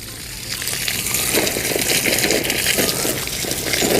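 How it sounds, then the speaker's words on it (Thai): Water gushes and splashes onto soil around a custard apple tree to dissolve fertilizer, a loud, steady pour that swells after a brief start. "เราจะทำการให้น้ำนะครับก็คือ การให้น้ำเนี่ยก็คือให้ ให้ปุ๋ยละลายลงไปนะครับ"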